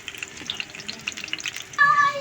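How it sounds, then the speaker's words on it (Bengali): Boras, or fritters for laddu, fry lightly in oil with a soft, crackling sizzle. Near the end a brief tonal ring rises over it, and no one speaks. "এইভাবে এটা হালকা হালকা করে ভাজে নিব"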